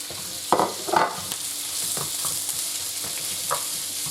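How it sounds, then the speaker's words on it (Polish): Cabbage and meat sizzle steadily in a hot pan for bigos, with a few clattering knocks of stirring near the start and occasional soft scrapes. "Jak się ta kapusta już smaży, to dajcie teraz te mięso."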